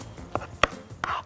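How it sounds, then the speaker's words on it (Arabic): A kitchen knife chops grilled eggplant on a board for baba ghanoush: three sharp, close cuts spaced apart, with no talking. "وارجع اروح ايه فرمه تاني بالسكينه بالشكل ده كده"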